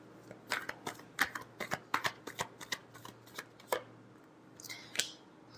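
Tarot cards shuffled by hand, a quick run of crisp riffling flicks and slaps at close range, fairly quiet, with no talking.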